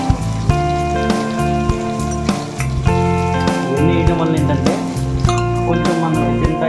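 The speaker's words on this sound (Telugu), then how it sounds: "వేగుతున్నప్పుడు క్యారెట్ కూడా వేసుకోవాలి" Carrots fry with onions and green chillies in a pan for mixed biryani, giving a steady crackling sizzle under tuneful background music.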